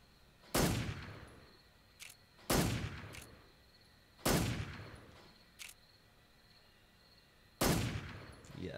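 Gunshots in the stealth action game Metal Gear Solid 3: Snake Eater, four loud single blasts spaced a second or more apart, each with a ringing tail, plus a couple of softer clicks between them.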